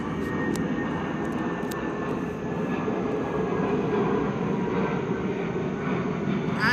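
Airplane engine droning steadily as it passes overhead, a continuous broad rumble that holds at a constant level throughout, with no speech.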